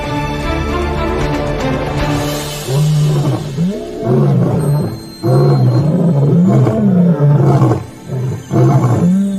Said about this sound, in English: The Insefu brothers roar a warning to all.